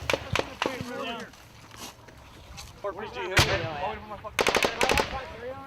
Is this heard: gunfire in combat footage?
yes